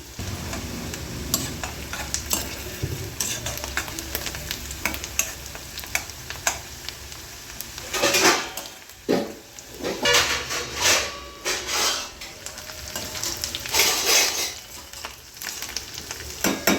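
Food roasting on a stove flame in a pan for biryani, a spoon stirring and scraping in quick, uneven strokes over a continuous loud sizzle, with bursts of busier stirring partway through.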